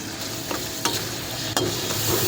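Green chillies, curry leaves and mint sautéing in a hot pan give a steady close sizzle, punctuated by a few sharp spatula scrapes and stirs.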